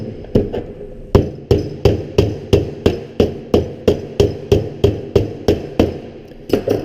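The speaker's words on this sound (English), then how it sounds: "we'll see if we can work them out with the sheet metal hammer here as well" Steady sheet metal hammer taps on a Pittsburgh corner lock seam, about two per second, ringing sharply against sheet metal, close up with no voices.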